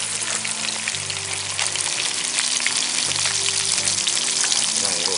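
Rockfish sizzles in a pan of butter and garlic, a loud, steady, dense crackle and hiss that runs continuously throughout, with faint background music underneath.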